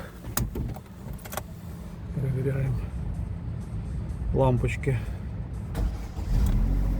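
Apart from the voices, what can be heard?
Opel Zafira 2009 1.6 petrol car engine starting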